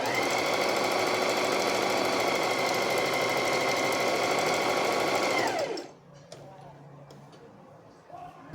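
A sewing machine stitches fabric in a steady, rapid mechanical whir that runs for almost six seconds, then stops abruptly, leaving only faint handling sounds.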